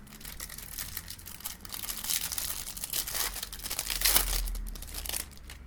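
A Yu-Gi-Oh! Dark Side of Dimensions movie pack foil wrapper is crinkled and torn open up close, with steady crackling rustles that swell into a louder tearing burst near the end.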